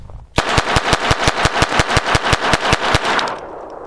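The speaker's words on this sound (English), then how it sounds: "15 more rounds through the TX22" A rapid string of about fifteen loud gunshots from a Taurus TX22 pistol, fired close and evenly in quick succession, ending abruptly in a fading echo.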